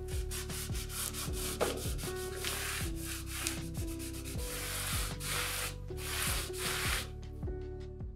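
Close, steady rubbing and scraping as folded woodchip wallpaper is worked back and forth over a wall like sandpaper in repeated strokes, with a faint tonal hum underneath.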